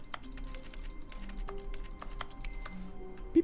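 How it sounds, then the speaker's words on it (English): Quick, light clicks of an office computer keyboard in The Stanley Parable Ultra Deluxe, typed in a steady patter over a low background hum, with a small electronic blip at the very end. "why would they make the clicking sound effect so fun?"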